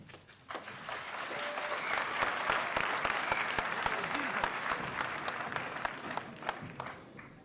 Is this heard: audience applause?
yes